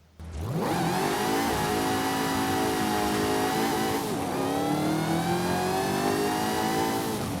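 A Cadillac CT5-V Blackwing's 6.16-litre V8 roars to life and revs high in Forza Horizon 5, holding a loud, sustained growl with rising and falling pitch throughout.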